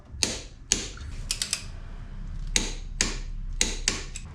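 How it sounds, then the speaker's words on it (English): A torque wrench ratchets and clicks while brake caliper bolts are tightened on a 2022 BMW S 1000 RR during a track build. The sharp mechanical clicks come close up in irregular bursts, with no talk. "Now that we have some pressure, we're gonna tighten them more. Torque it down."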